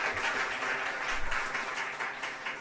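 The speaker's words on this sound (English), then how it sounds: "So let's give them a last round of applause." A short burst of audience applause for an alumni panel at a research conference, a full, moderately loud patter of many hands clapping at once, steady across the brief moment.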